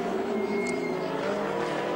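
A Ferrari 458 race car at Le Mans spinning out, its engine droning and whining steadily at a moderate distance for about two seconds, with a faint brief squeal near the middle.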